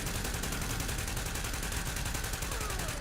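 Sustained gunfire in The Division while shooting at an enemy, a continuous, loud rattle of rapid shots throughout, with no talking.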